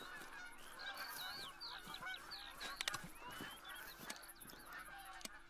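Canada geese honking in the Call of the Wild hunting video game, repeated faint calls scattered across a quiet background, several overlapping at times with a few sharp clicks.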